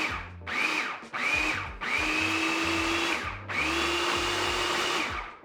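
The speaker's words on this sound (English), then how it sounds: "Then we use the processor until it's smooth." A food processor whirs through cauliflower, egg and collagen peptides in four loud motor bursts, each spinning up to a high steady whine before cutting off briefly and restarting.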